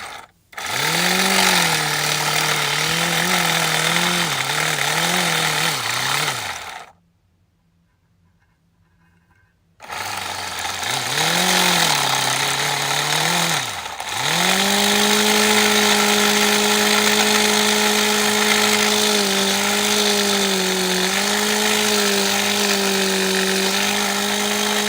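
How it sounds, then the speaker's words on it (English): Roots-type lobe blower running, a loud close whine with steady tonal hum that ramps up and down, cuts out for a few seconds, then spins back up and holds a steady pitch. "So now the root blower finally works."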